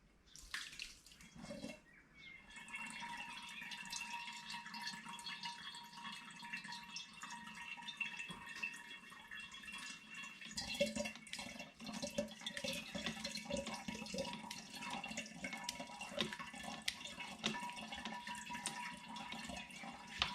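Liquid from a home all-grain brew of a rum and apricot strong ale runs and splashes steadily off a tilted tray, a continuous close watery pour lasting the whole stretch with no talk.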